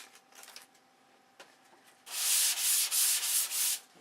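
A model wing is hand-sanded with sandpaper rolled in a crosshatch, its flat gray finish being rubbed to powder. After a quiet start, a run of about five loud, close, rasping back-and-forth strokes follows in steady rhythm.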